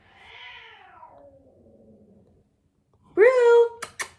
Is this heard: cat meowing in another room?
yes